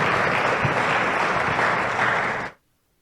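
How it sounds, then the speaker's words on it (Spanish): A church congregation breaks into sustained applause, loud and dense with no one speaking over it, then the clapping stops abruptly before the end. "¿cuánto le dan un aplauso al Señor?"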